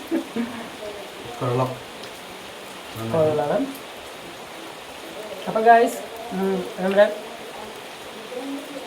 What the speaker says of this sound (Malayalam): നല്ല മഴയാണ് ഇപ്പോഴും ഇവിടെ, നല്ല മഴ പെയ്തുകൊണ്ടിരിക്കുകയാണ്